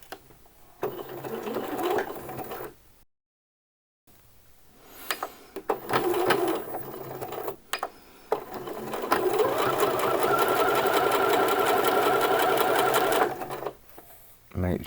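A sewing machine stitches T-shirt fabric in short bursts, pauses and briefly goes silent, then runs in a long, steady, close whirring stretch. Some quiet talking occurs around the stitching.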